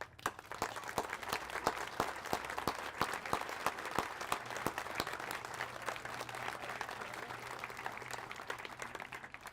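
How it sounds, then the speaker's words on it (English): An audience at a bridge dedication breaks into steady applause, a dense wash of many hands clapping at moderate distance, sustained for several seconds. "please hold your applause to the end"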